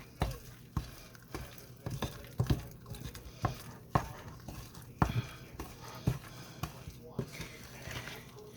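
Thick corn bread dough is mixed and turned over by hand, giving irregular wet slaps, squelches and soft thuds in an uneven rhythm, close and moderately quiet.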